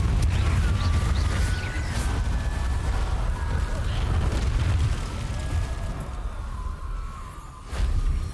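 A fiery Confringo spell blast in Hogwarts Legacy lands as a loud, rumbling explosion with a sustained crackling roar, followed by a second burst near the end over continuous game ambience.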